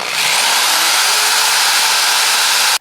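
A power drill bores into an aluminium antenna support for a 6m Mosley Yagi, a loud steady high whine running for nearly three seconds before cutting off abruptly.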